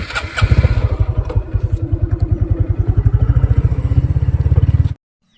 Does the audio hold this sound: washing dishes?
no